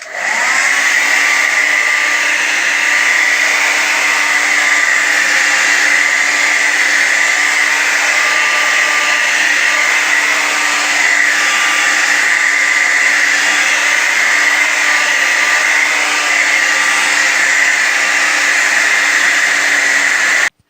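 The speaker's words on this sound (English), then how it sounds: "I do this on the cold setting of my blow dryer so it dries faster" A hair dryer on its cold setting blows continuously at a steady, loud whirring hum from start to finish, close by with no talking.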